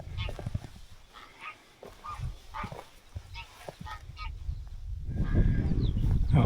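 Geese honk repeatedly in a noisy flock on a Scottish hillside at Lamb Hill, the calls growing louder and denser toward the end, with some outdoor wind and rumble underneath.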